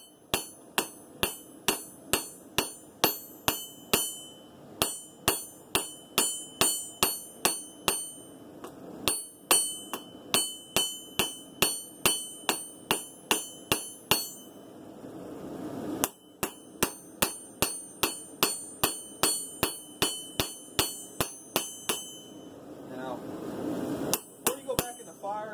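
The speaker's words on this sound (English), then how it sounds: "I would suggest real nice light hammer blows just to straighten everything out." Light hammer blows straighten a hand-forged steel blade, a long steady series of sharp ringing metallic strikes in quick rhythm, close and loud, with brief pauses between runs.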